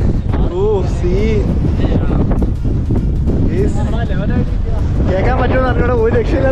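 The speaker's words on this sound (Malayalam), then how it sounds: "ഒരു രക്ഷയില്ലാത്ത കാറ്റ്" Strong wind blowing over a large rock on a foggy hilltop at Chittippara, constant heavy buffeting close to the microphone while several people talk and call out.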